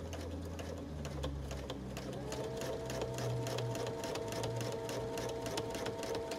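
A sewing machine stitches steadily during free motion quilting as fabric is guided under the presser foot, with fast, even mechanical ticking at close range and no talking.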